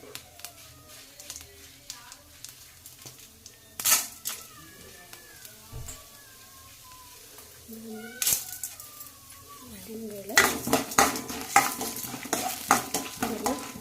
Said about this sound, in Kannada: ಚೆನ್ನಾಗಿ ಕಲರ್ ಬರೋ ಥರ ಫ್ರೈ ಆಗಬೇಕು ಉದ್ದಿನ ಬೇಳೆ ಮತ್ತು ಕಡಲೆಬೇಳೆ